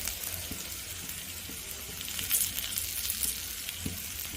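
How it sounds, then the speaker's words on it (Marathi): Steady crackling sizzle of spice tempering with turmeric frying in hot oil, close and moderately loud, with occasional soft clinks and stirring noises. "हळद चांगली खमंग फोडणी करून घ्यायची"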